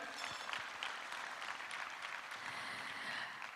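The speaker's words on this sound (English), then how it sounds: "Big applause, ladies and gentlemen." Applause from an audience at an international big data conference, a steady wash of clapping that stays fairly faint and even throughout, with no one speaking over it.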